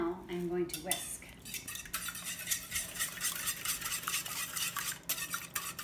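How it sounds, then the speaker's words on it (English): A whisk clatters rapidly against a big bowl, beating six eggs, in busy, continuous metallic scraping and ticking, loud and close, after a brief quiet moment at the start. "Okay, all 6 eggs are in the bowl, and now I'm going to whisk."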